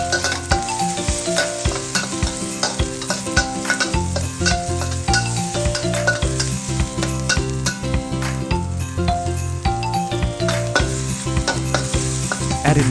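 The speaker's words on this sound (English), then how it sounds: "Add the shallots and continue stir-frying." Shallots stir-fried with pepper and garlic paste in hot oil for Thai basil pork, giving a constant loud sizzle with repeated scraping and clinking of stirring over background music.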